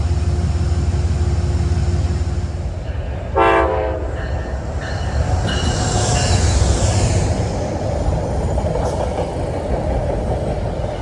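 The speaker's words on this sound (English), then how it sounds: "you heard the great horn of 206 there" A Metro-North locomotive, number 206, sounds its horn at the Harlem-125th Street platform during a busy evening: one short, loud harmonic blast over a steady rumble of rail traffic, with no voices.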